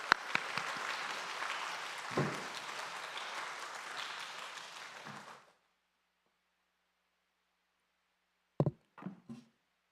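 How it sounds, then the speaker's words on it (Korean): A church congregation claps warmly in dense, lively applause for about five seconds, then falls silent. A few scattered sounds, likely a voice beginning to speak, follow near the end. "뜨거운 박수로"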